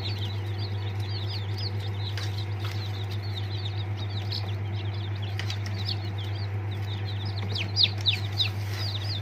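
Newly hatched chicks from an egg incubator, a continuous chorus of many high, rapid peeping calls overlapping throughout over a steady low hum from the machine, a few louder peeps toward the end.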